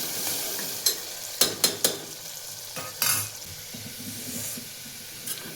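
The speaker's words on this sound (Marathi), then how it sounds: "कांदा चांगल्यापैकी फ्राय होऊ द्यायचा" Onion fries in a pan, crisping to golden, with a soft sizzle beneath sharp, irregular stirring clatters and scrapes clustered at the start and middle.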